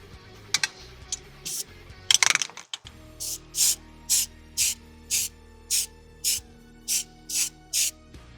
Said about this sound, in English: Now to go ahead and spray the dial black.